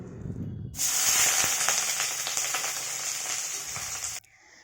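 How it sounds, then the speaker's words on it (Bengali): Chopped onion hits hot mustard oil in a wok with a sudden loud sizzle, hissing and crackling steadily close by for a few seconds before cutting off. "তারপরে ওই কড়াইয়ে দিলাম সর্ষের তেল আমি সর্ষের তেল দিয়েই করি সেখানে দিয়ে দিলাম একটু পেঁয়াজ কুচি"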